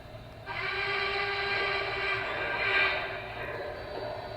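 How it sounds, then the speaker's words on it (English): Whistle of a model Y6B articulated steam locomotive: one sustained, steady whistle tone with a slight swell near the end, over a constant background rumble. "Let's try the whistle."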